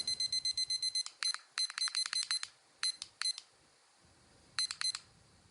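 An exercise timer alarm sounds in repeated bursts of rapid high electronic beeps, loud and close, with pauses between the groups and the last cluster arriving after a short silence.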